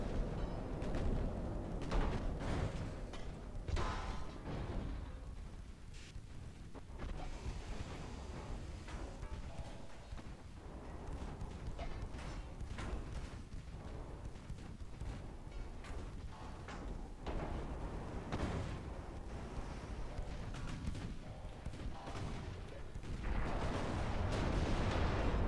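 Naval battle in Ultimate Admiral Dreadnoughts during an armed convoy attack, with dense, continuous rumbling gunfire and heavy booming blasts, loud and sustained throughout with no speech.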